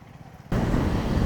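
A motorbike rides on a Konkan highway en route from Mumbai to Dapoli, weaving through traffic. After a short quiet moment, loud, steady engine and wind roar sets in abruptly and stays close and constant.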